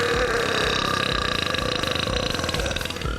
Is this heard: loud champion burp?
yes